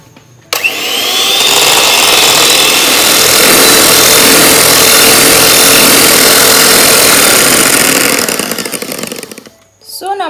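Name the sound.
electric mixer whipping cream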